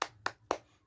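In a class for young schoolchildren, the group does a clapping cheer: three sharp, evenly spaced claps about a quarter second apart, close and crisp, with no talking.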